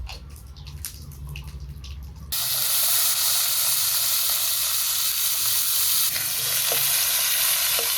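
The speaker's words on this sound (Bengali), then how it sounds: "ফোড়নে দেবো শুকনো লঙ্কা আর কালো জিরে।" Dried red chillies and black cumin seeds hit hot oil in a pan with a sudden loud burst of sizzling and crackling that holds steady, following a quieter low rumble.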